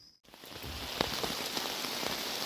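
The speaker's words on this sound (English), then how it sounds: "It's raining." Rain falls at night on a campsite, a dense steady patter on surfaces with scattered louder drops, beginning abruptly after a brief quiet moment.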